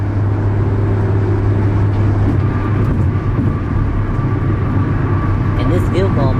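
Steady low rumble inside a car cruising at about 73 mph in fifth gear near 3,000 RPM, with a constant engine drone and road roar, after fitting Dynamat sound deadening; a brief voice cuts in near the end.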